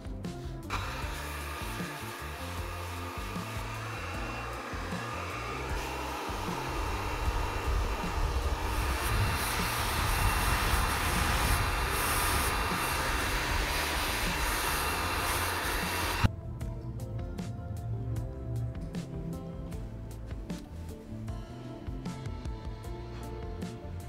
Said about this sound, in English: I'm gonna start blowing out her hair using this round brush to add even more volume.